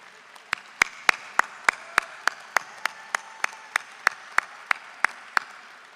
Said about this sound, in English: Graduates, applaud like you mean it.